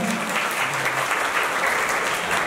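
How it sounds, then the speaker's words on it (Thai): Audience applause for the three producers at a fan meeting for the Thai drama series 'Singh Sang Pa', a dense, steady wash of clapping from a crowd that keeps going evenly throughout. "ขอเสียงปรบมือให้ผู้จัดทั้งสามท่านเลยนะครับผม"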